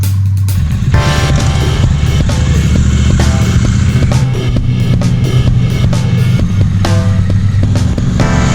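A 1967 BSA 250cc motorcycle engine runs steadily, loud and close, with a throbbing single-cylinder idle that picks up slightly in revs and stays continuous throughout.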